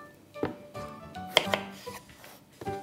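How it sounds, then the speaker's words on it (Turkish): A knife cuts small fresh potatoes into bite-sized pieces on a board, giving several sharp, irregular chops close up with short pauses between strokes. "Onu da lokmalık doğruyorum."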